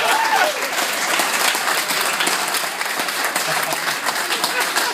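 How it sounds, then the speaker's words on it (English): Sustained audience applause at a hypnosis show, a steady dense clatter of many hands clapping with faint voices mixed underneath. "Big round of applause for all of our friends now."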